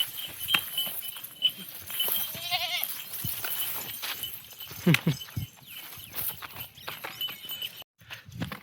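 A goat bleats in a brief wavering cry near the start, followed by scattered hoof clatter, rustling and light movement outdoors.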